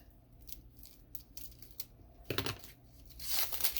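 A paper label is torn and snipped off a roll of holographic green curling ribbon, giving close, quiet crinkling and ripping followed by a brighter tearing rush at the end.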